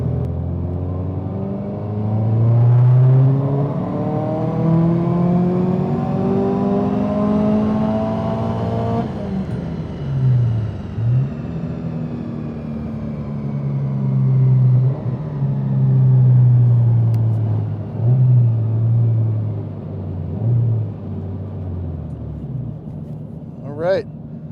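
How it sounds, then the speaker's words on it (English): Subaru STI with a new turbo, new injectors and E85 fuel makes a dyno pull, its engine revving up hard and loud in one long climb, dropping back, then droning on under steady load. "All right, Bucky, we're getting ready to do a dyno pull on E85 with the new turbo, new injectors, new Access Sport V3."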